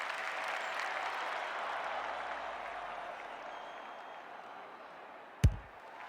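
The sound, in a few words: crowd applause in AFL 26 video game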